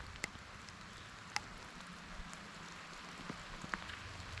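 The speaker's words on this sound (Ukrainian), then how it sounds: "Дощ іде." Light rain patters softly over a quiet outdoor hush on a Carpathian mountain meadow, with a few sharper scattered drips standing out now and then.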